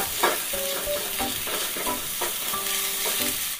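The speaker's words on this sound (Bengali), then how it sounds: "এবার এটাকে আমি দুবার নেড়ে নেব।" Tomato frying with green chili paste and ginger paste is stirred in a pan: a steady close sizzle with several scraping spoon strokes at irregular intervals.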